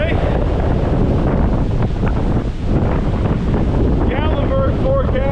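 Strong, gusty wind roars and buffets the microphone without pause; a faint voice surfaces briefly near the end.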